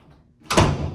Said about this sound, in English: so that I can turn around and shut the door.